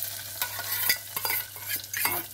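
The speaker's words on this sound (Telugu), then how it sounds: "ఈ పప్పు కొంచెం పొయ్యి మీద పెట్టేసి ఈ తాలింపు ఇందులో వేసేద్దాం." Hot tempering stirred into a pot of dal on the stove, with sharp sizzling and frying crackle broken by repeated clinks and scrapes of stirring, close and loud without talk.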